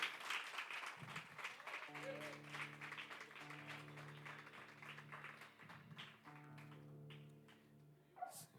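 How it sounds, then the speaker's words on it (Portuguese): A church congregation applauds during a service, a steady wash of clapping over held keyboard chords, fairly soft, with a few louder claps near the end. "Aplauda forte ao Senhor se você crê."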